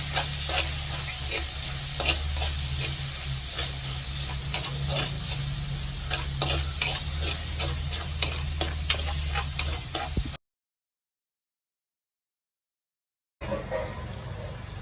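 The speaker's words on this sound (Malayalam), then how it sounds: "തക്കാളി അരിഞ്ഞു വെച്ചത് ഇങ്ങോട്ട് ചേർത്ത് കൊടുക്കാം ഇത് നന്നായിട്ട് വെന്തുടയണം" Chopped tomatoes fry in a Kerala tuna fish curry pan, a steady sizzle over low hum with rhythmic scraping and tapping of a spoon stirring, then a few seconds of silence before the frying resumes briefly.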